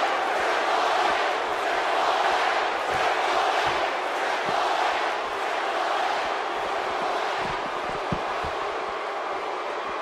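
A packed Detroit arena crowd at a wrestling event roars and cheers steadily throughout, a dense, loud wall of voices with occasional sharper shouts rising above the din.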